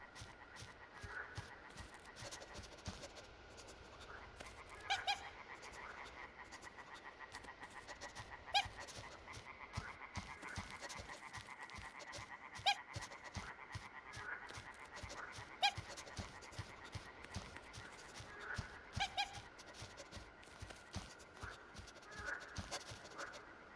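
A dog pants steadily and rapidly throughout Happy Game, a horror video game, with scratching sounds, a faint whimper and scattered clicks over a continuous low ambient drone.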